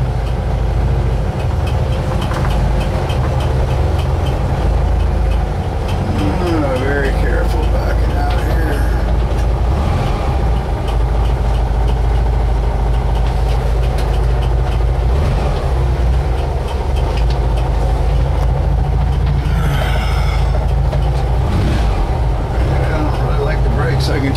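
A vehicle engine idles and rumbles steadily at close range while backing up, with some mechanical clatter and voices talking over it.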